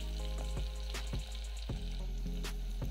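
Onions frying in a pan for a mutton curry, with a close, steady sizzle broken by sharp scrapes and taps from stirring every half second or so, and no talking.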